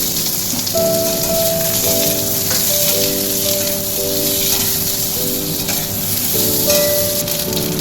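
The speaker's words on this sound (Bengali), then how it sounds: "কড়াই আমি তেল দিয়ে রেখেছিলাম, এবার আমি আলুটা দিয়ে দিলাম" Potatoes fry in hot oil in a wok, giving a loud continuous sizzle with crackling bubbles. A faint tonal hum in the background comes and goes.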